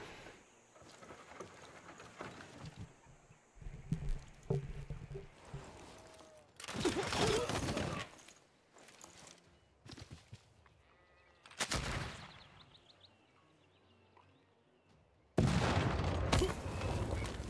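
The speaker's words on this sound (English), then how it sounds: "he's got cannons" Cannon volleys in the strategy game Civilization VI: several loud, sharp blasts burst out in separate groups, each with a crackling tail, across a busy game soundscape.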